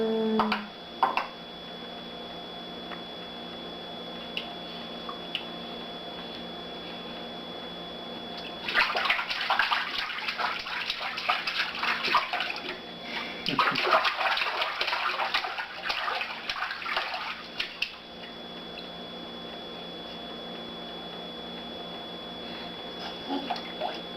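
A child in bath water is quiet at first, then two loud bursts of close splashing and sloshing follow, each lasting a few seconds, with a calm stretch of room tone between and after them.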